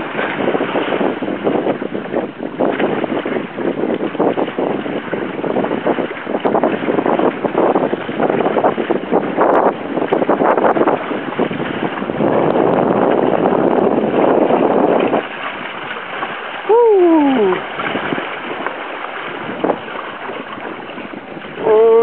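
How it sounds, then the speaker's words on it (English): Big waves roll past a small sailboat running downhill at 7 to 8 knots, a loud churning wash mixed with heavy wind buffeting on the microphone, surging and easing in long swells. "Big waves going by the boat."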